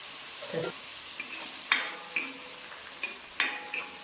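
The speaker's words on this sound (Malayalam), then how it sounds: "ഹൈ ഫ്ലെയിമിലിട്ട് നമുക്ക് ഇത് നമ്മുടെ ഈ എണ്ണയ്ക്കകത്തിട്ടൊന്ന് വഴറ്റി മൂപ്പിച്ച് എടുക്കാം" A ground spice paste for rasam is sautéed in hot oil over high flame, crackling in sharp bursts as a spoon stirs and scrapes the pan. The sound is close and fairly loud with no talking.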